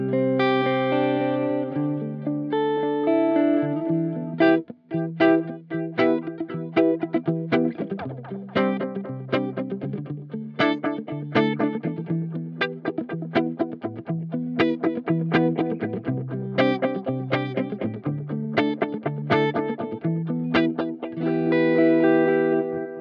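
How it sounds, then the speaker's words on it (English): Line 6 DL4 MkII pedal on its Transistor setting, a solid-state take on tape echo, repeating a played guitar or instrument line with steady warm echoes and slight grit throughout, loud and continuous with no voices. "Now, Transistor is a solid-state-based tape echo."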